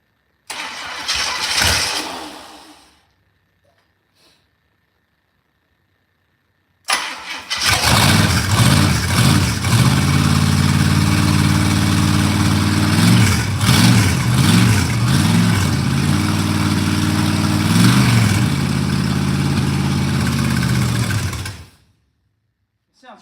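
A car engine in a garage cranks briefly and dies, then after a silent pause fires up and runs at a loud, steady idle with slight rises in revs before cutting off.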